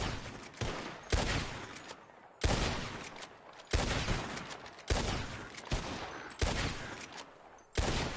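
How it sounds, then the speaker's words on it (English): Gunshots from Red Dead Redemption 2 as players shoot at birds in the sky, about seven loud, separate reports spaced roughly a second apart, each trailing off in an echoing decay. "Whoever shoots four birds out of the sky first wins."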